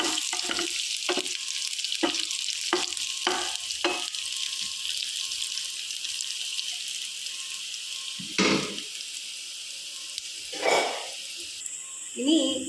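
Dried red chillies and curry leaves are stir-fried in hot oil for a dried shrimp chutney. A constant close sizzle runs under a quick series of spatula scrapes, then a few slower stirring strokes.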